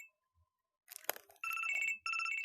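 A telephone rings in the video game Resident Evil 4, sounding as two loud, sustained electronic ring bursts after a brief clatter.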